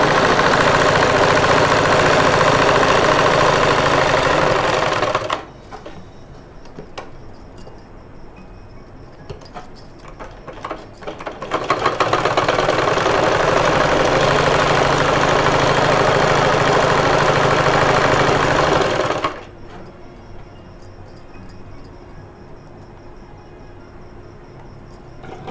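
A sewing machine stitches a baby frock in two bursts of steady, rapid whirring, close and loud, separated by a quieter pause, with no talking.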